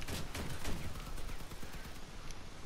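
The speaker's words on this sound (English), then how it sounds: "He has shotguns though." Shotgun fire in the vehicle combat game Crossout, a dense run of overlapping blasts and rattling gunfire that stays loud throughout with no talking.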